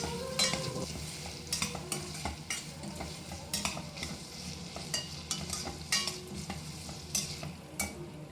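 Two tomatoes and chillies are sautéed in oil for a crab soup, giving a soft sizzle with frequent spoon-on-pan scrapes and clinks in a loose, repeated rhythm. The sound is close, with no talking.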